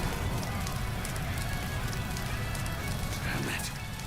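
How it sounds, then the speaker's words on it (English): A dense rain of arrows in the battle game Dynasty Warriors: Origins, a steady loud hissing clatter that fills the whole stretch without a break, with battle noise mixed in. "This rain of arrows prevents both progress and retreat."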